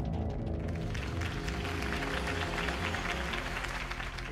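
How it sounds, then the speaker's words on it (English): A crowd applauds after a campaign speech in the Batman Telltale video game, a dense wash of clapping and cheering that fills the whole stretch at a moderate level. "could have heard that applause"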